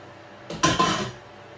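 Drained beans tip from a sieve into a pan with a brief metallic clatter and rattle, a couple of quick close hits lasting under a second.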